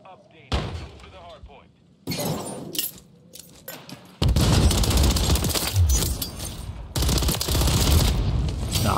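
Rapid RAM-9 assault rifle fire in Call of Duty multiplayer, dense bursts of shots that start loud and continue almost unbroken in the second half, with a voice talking over the opening bursts.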